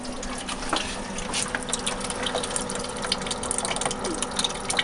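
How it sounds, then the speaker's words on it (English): Coolant pours and gushes from the radiator system of a Dodge Durango 4.7 during a flush, a steady splashing liquid rush with scattered drips, close and continuous. "the system's flushing a lot faster now that I opened up the main radiator cap"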